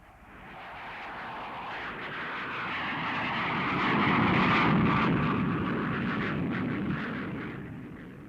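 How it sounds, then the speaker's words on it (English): An RAF training aircraft passes over Llyn Cerrig Bach near the Valley base on Anglesey, its broad jet roar swelling from a distance to a loud peak midway and then slowly fading. "Prince Charles is only one of the many trainee pilots to have broken the peace of Llyn Cerrig Bach"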